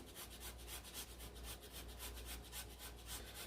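Fresh ginger scraped steadily across a hand grater, a continuous close rasping scrub with quick repeated strokes and no talking.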